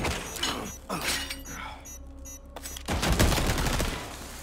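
Automated turrets and traps open fire in a Resident Evil 4 Remake fight, giving a loud, chaotic volley of gunshots and mechanical clatter that breaks off and then comes back in a heavy, dense burst.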